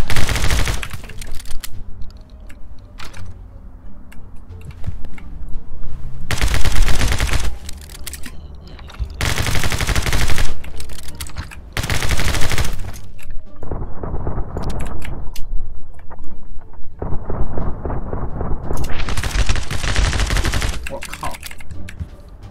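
Video game gunfire from My Friend Pedro: loud, dense bursts of rapid automatic shots and single cracks come in repeated barrages, with short lulls between them.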